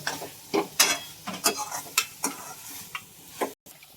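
Potato pieces are stirred and dry-roasted in a pan for a potato curry, giving a series of sharp scraping strokes with a light sizzle underneath, close and fairly loud, with no talking.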